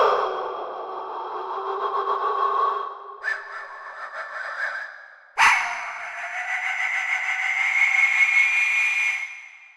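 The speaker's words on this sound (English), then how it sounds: "Death whistle effects number 1." Sampled Aztec death whistle effects give shrill, breathy, wavering screeches, loud and close, in three phrases that shift pitch upward, with a sharp attack on the last.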